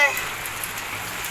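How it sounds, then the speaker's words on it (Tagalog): Heavy rain pours steadily onto a surface at a campsite, a dense close hiss with scattered heavier drops, continuous throughout the short moment. "Malakas na ulan eh."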